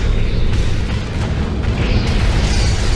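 Super weapon drop explosion in the Universe at War strategy game, a loud sustained deep rumbling boom with crackling debris bursts layered on top, continuous for several seconds with no talk.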